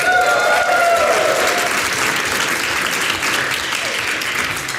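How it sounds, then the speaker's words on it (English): A large audience breaks into loud, sustained applause at a talk on how to open a speech, with dense clapping holding steady for several seconds before easing slightly. "Give me a round of applause if that's what you want to hear"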